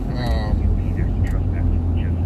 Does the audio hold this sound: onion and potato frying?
no